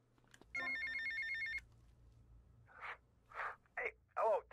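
A phone rings in GTA Vice City Definitive Edition: one electronic ring burst of about a second, close and clear, then several short voice-like bursts follow.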